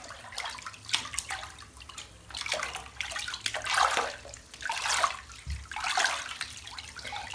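Bath water sloshed and swirled by hand after a colored bath product has been added, a series of close watery swishes and splashes rising and falling in bursts, with no talking.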